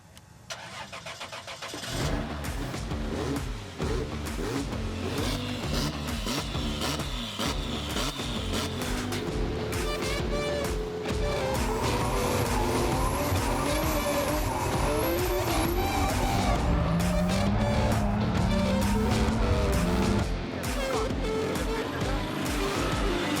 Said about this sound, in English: I think it's time we hear exactly what a 2JZ in a Supra sounds like.